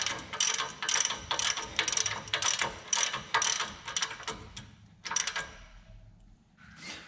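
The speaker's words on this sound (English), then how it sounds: "Get the nut snug down real good." A ratchet snugs down the tie rod nut on a heavy-duty Dodge Ram 2500/3500 steering linkage, with about ten sharp, rhythmic clicking strokes up close, then a brief pause and a last few clicks.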